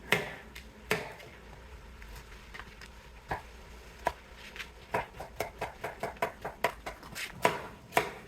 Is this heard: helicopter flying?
no